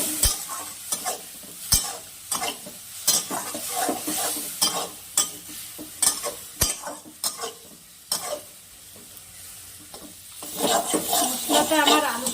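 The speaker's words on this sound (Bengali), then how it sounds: "মশলাটার মধ্যে আমি সামান্য জল দিয়ে দিলাম। এটাকে আমি ভালো করে কষিয়ে নেব।" Masala loosened with a splash of water is stirred and sautéed in a pan, giving a steady sizzle broken by repeated scraping stir strokes and light clinks of utensil on metal, close and continuous with no talk.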